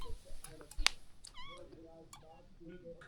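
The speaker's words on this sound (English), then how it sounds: "It's a little kitten." A little kitten meows repeatedly on a trek near Aguas Calientes, Peru, giving several thin, high, close mews in quick succession while people talk quietly nearby.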